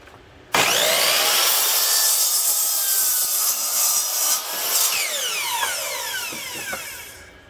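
A miter saw cuts wood for model railroad benchwork, starting abruptly with a loud, close whining roar as the blade bites, sustained through the cut, then winding down with falling pitch near the end.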